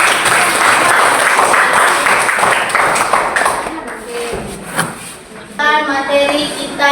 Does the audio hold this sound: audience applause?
yes